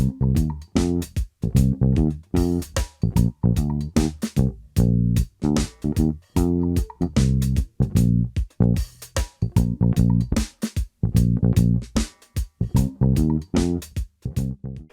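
Reggae bass line played alone on bass guitar: deep, round, plucked notes in a steady repeating syncopated pattern with short gaps, clear and up front.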